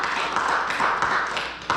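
A church congregation applauding, a dense patter of many hands clapping at moderate distance, steady and continuous.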